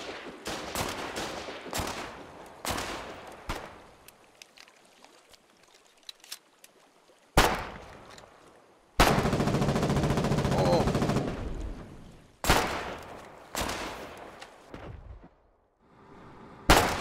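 Gunfire in the Foxhole video game in a fight at an abandoned ward, with bursts of rapid shots, loud sustained rattling volleys and sharp single cracks separated by short quiet gaps.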